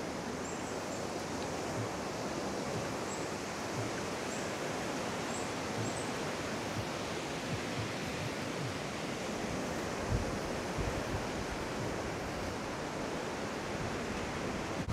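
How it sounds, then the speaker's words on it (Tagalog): Strong wind roars across an open beach at Paniman Beach, Ternate, Cavite, a steady broadband rush with surf mixed in, loud and unbroken throughout. "Malakas yung hangin eh."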